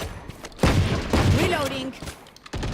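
Video game gunfire, a few loud close bursts of shots with short pauses between them, overlapped by a voice speaking.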